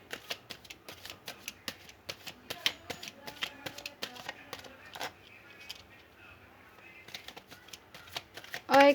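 Tarot cards are shuffled by hand in quick, crisp riffles and flicks, close and fairly quiet, before a card is pulled with a short rustle at the end.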